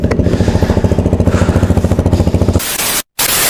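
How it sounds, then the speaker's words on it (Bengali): A CFMoto 250CL-C motorcycle engine idles close by with a fast, even chugging rhythm, then revs into a louder roar, cuts out briefly, and picks back up. "এখন যদি আমি স্টার্ট দিয়ে ইঞ্জিনের সাউন্ডটা যদি আপনাদেরকে শোনাই"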